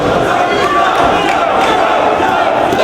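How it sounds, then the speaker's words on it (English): A wrestling crowd chants in unison around the ring at a professional wrestling event, a loud, continuous roar of many voices. "The crowd glued to the ring chanting for Joe."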